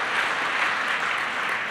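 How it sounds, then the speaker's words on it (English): Sustained applause from a high school audience in New York City, an even, unbroken roar of many hands clapping at a steady level with no pauses. "These applause are for you all as well."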